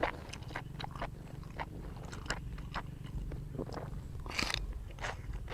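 Crunchy chilli eaten with pork uterus and a seafood dip, heard as close, steady biting and crisp chewing crunches repeating throughout, quiet and intimate, with no talking.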